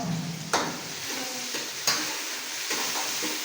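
Onions frying over low heat in a pan make a soft, steady sizzle, broken by a few sharp clicks and scrapes of stirring at irregular moments.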